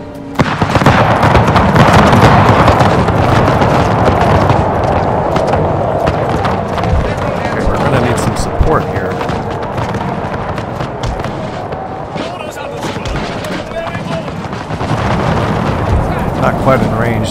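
Artillery and musket volleys in the Empire: Total War Empire 2 mod, a Great Britain campaign battle: a continuous, loud rumbling din of cannon and musket fire with a voice talking over it.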